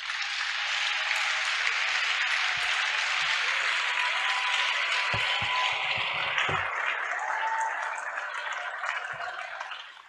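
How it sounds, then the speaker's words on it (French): A church congregation applauds in a sustained, dense wash of clapping that holds steady for about ten seconds before fading at the end, with a few low thumps and faint voices mixed in. "Ça, c'est des applaudissements."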